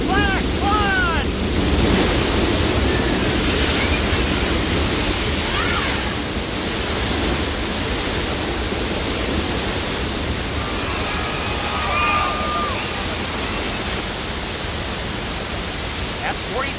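A staged flash flood on the Universal Studios Hollywood tour sends 40,000 gallons of water rushing down a hillside, a loud, continuous roaring wash with a tour guide's voice heard over it.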